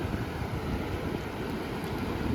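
Sea water rushes in fast at the shore during fishing, a steady loud roar of surf mixed with wind buffeting the microphone, with no talk.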